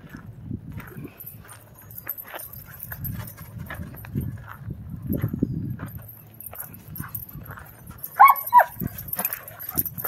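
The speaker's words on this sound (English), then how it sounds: "Oh, we got the pack of dogs." A pack of dogs, including a Black Mouth Cur and a Doberman Pinscher, romp in a dog park with scuffling paws, panting and a brief sharp yelp near the end, moderately close.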